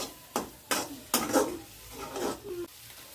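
Vegetables being stirred and sautéed in a pan, onion, capsicum and tomato shifting against the metal with a spatula in several scraping strokes over a soft background sizzle, fairly close and with no talking.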